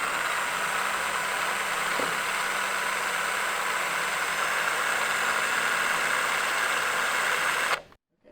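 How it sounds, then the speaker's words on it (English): A power drill bores about a quarter inch into a rivet on a More Power Puller, giving a loud, steady, close whine that runs for nearly eight seconds and then stops abruptly. "drill approximately 1/4 of an inch in here to just get everything started and ready for a larger bit to remove that rivet."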